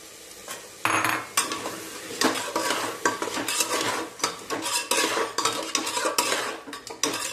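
Field bean seeds (pavta) being sautéed in a pan with masala, a spoon stirring and scraping steadily against the metal in repeated clattering strokes over a soft sizzle, close and fairly loud with no talking.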